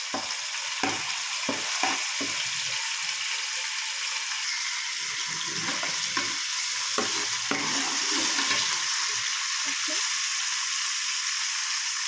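Ginger, garlic and coriander paste frying in plenty of oil for a village-style fish curry, a dense close sizzle with repeated spoon stirring scrapes and clicks throughout, no speech.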